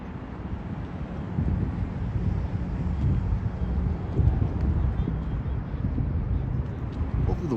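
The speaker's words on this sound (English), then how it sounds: "Hopefully the wind won't be too aggressive today." Outdoors at a shopping mall, wind buffets the microphone with a steady low rumbling roar that swells slightly in gusts throughout.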